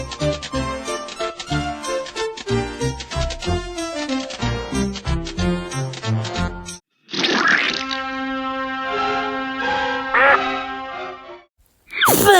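Cartoon duck quacking in a Looney Tunes duck-versus-coyote chase, a burst of loud, squawky quacks over busy orchestral music, then a brief pause and more quacks against sustained chords and tinkling accents.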